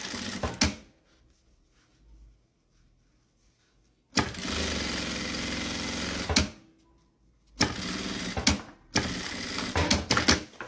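Sewing machine stitching the fabric lining of a small makeup bag, three bursts of rapid rhythmic mechanical chatter close up, separated by quiet pauses and faint handling noises.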